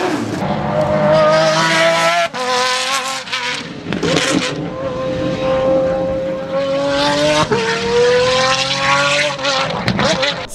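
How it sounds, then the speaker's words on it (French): Pagani 7.3-litre V12 with a straight-pipe exhaust and no back box or catalyst, roaring loud and close as it revs repeatedly, pitch climbing and dropping between throttle blips with brief sharp breaks. "il n'y a rien pour arrêter le bruit de sortir directement de ce V12"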